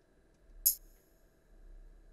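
A single soft, low-velocity tambourine hit from a Korg Triton gives one brief, bright metallic jingle that fades fast, alone against near silence.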